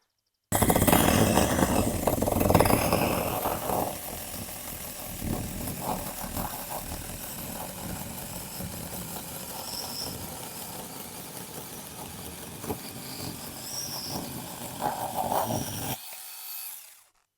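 A LEADER cordless mini saw cuts through hardwood, its motor whining steadily under load near the microphone, loudest at the start and easing into a continuous buzz before stopping abruptly.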